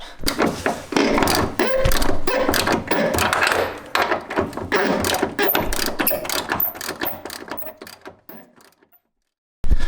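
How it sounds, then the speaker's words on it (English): A breaker bar cranking a badly corroded, rusty bolt loose on a Mitsubishi Evo 9 front end, a dense loud run of ratcheting clicks and grinding metal strain close up, stopping abruptly before a short final clunk. "I'll throw in a sound clip of me getting this bolt out"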